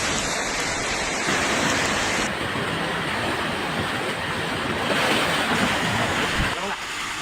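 Floodwater from an overflowing river in Aceh during flash flooding rushes in a loud, continuous roaring wash, close and dense, with faint voices mixed in.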